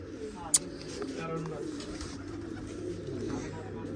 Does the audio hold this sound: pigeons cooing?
yes